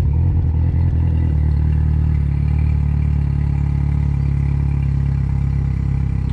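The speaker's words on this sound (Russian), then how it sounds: "покажу вам, как заводится мотор Yamaha 70" A Yamaha 70 outboard boat motor that sat unused all winter, running steadily with a loud low rumble and some clatter at the start, then settling into a constant engine drone.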